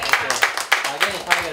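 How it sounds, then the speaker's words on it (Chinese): Audience applause at an event, a brisk run of close hand claps in a steady rhythm, fairly loud throughout. "谢谢大家，掌声鼓励一下"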